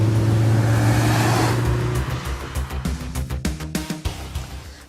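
A 2014 Peugeot RCZ R sports car with a 1.6 THP turbo engine drives close by, first with a loud, steady engine drone, then with rising revs and sharp, repeated gear-change pulses. No one talks.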